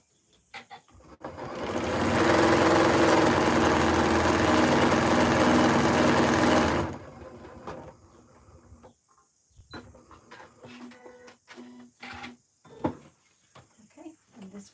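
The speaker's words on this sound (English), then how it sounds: "Stitching through. Nesting those seams." A sewing machine stitches through quilt seams in one loud, steady run of about five seconds, then stops; quieter handling noises and brief talk follow.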